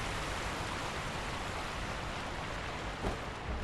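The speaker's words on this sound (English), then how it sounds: "And it is underneath the waterfall." A rushing waterfall in the video game Sekiro gives off a steady, dense, close roar of falling water, with no break across the stretch.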